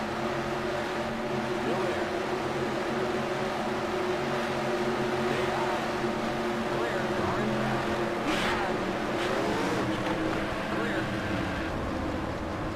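Race cars in NASCAR Racing 2003 roar past one after another in a steady, continuous engine drone with pitch sweeps as each car passes close by, under occasional talking.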